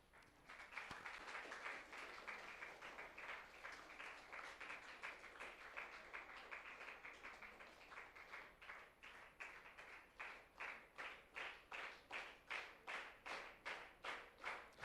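An audience at a World Science Day 2021 school event applauds a student who solved a 3x3 Rubik's Cube in 57 seconds. Dense, scattered clapping fills the first half, then settles into loud, rhythmic unison claps.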